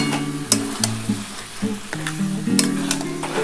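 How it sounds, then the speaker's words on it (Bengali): Masala for a spicy coriander-leaf chicken curry sautéed with a splash of water in a pan, giving a steady low sizzle broken by sharp spoon scrapes and clinks at a brisk, uneven pace. "আমি একটু সামান্য জল দিয়ে কিন্তু মশলাটা কষাচ্ছি"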